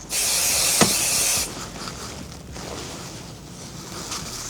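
An aerosol can of spray adhesive hisses steadily and loudly for about a second and a half, then stops, leaving faint background rustling.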